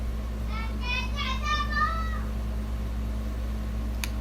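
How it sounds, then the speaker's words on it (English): A voice calls out in the background, a brief high sing-song sound lasting a second or two over a steady low hum, fainter than the room's main sound. "If you heard that, that was my daughter in the background."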